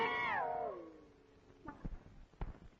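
A cat meows at night in a Tamil film comedy scene, one long descending wail at the start followed by a few short, louder knocks and thumps.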